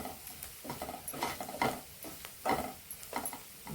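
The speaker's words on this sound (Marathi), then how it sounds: "आता हे चांगलं परतून घ्यायचे मसाले ते" Masala spices sautéing in a pan for dried bombil fish, with soft sizzling and intermittent scraping, stirring clatter of a spoon against the pan, fairly quiet and close.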